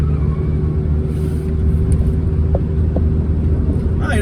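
An old cheap pickup truck drives steadily around turns, its engine and road rumble loud and continuous from inside the cab, with a few small clicks and rattles.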